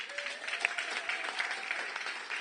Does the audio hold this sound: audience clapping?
yes